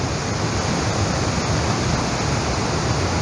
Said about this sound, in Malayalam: അപ്പോൾ ഇതാണ്ട് നമ്മുടെ വാഴച്ചാൽ വെള്ളച്ചാട്ടം.